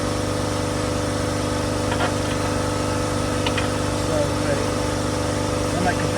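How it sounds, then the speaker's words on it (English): An air compressor runs steadily as it fills, giving a constant, fairly loud motor drone with a low, even hum and faint clicks and rattles over it throughout. "Let my compressor fill up."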